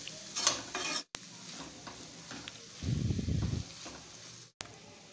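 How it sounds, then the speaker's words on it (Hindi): Tomato and vegetables for chicken pasta sizzle in a pan while a spoon stirs them in a short scraping burst, the frying quiet and close with no talk. "अब इन सब चीज़ों को हम जो है मिक्स करते हुए पका लेंगे"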